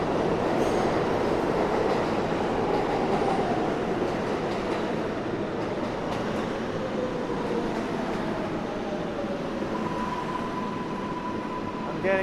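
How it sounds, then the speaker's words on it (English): A New York City subway train pulls into a 42nd Street station in Manhattan, its loud, steady rumble and rattling wheels filling the platform, with faint squeals rising and falling over the noise. "The trains are arriving quite frequently"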